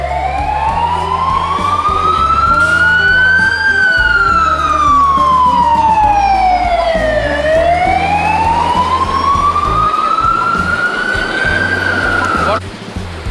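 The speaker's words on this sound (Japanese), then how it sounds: "消防車。" A fire engine siren wails loud and close on a Sydney street, sweeping up and down in long slow cycles over traffic rumble and a honking horn.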